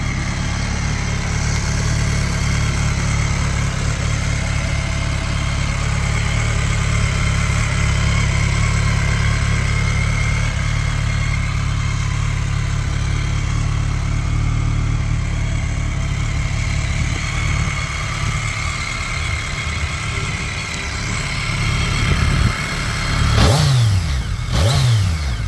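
A Harley-Davidson motorcycle for sale idles steadily with a loud, rumbling, even beat for a long stretch, then the throttle is blipped near the end for a couple of quick revs, with no talking.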